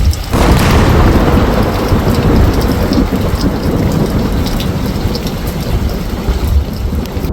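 Heavy rain pours steadily during a thunderstorm in Hwange, Zimbabwe, with a loud continuous downpour and low rumbling thunder beneath it, no voices.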